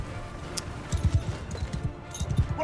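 Horse archers on horseback in Mount & Blade II Bannerlord: a quick, irregular patter of hoofbeats from several galloping horses, moderately close, thudding steadily over faint battlefield ambience.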